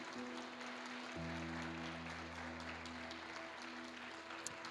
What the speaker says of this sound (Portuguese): Pode aplaudir ao Senhor por isso.